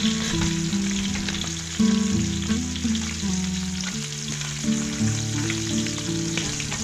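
Fish frying in hot oil for a simple provincial meal, giving a steady, loud sizzle throughout with a low humming tone underneath and no voices.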